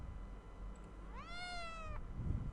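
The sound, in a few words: cat meowing, from an animal sounds game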